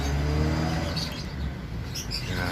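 Opaline and Fischer's lovebirds chirp in short bright calls over a loud low rumble of passing traffic or wind close to the mic.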